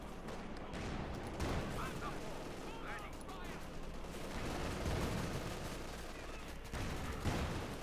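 Dense tank and machine-gun fire from the World War II strategy game Company of Heroes 2, with Panther and Panzer cannons. The shots pile into a continuous loud battle din with sharper cracks throughout, and no voice over it.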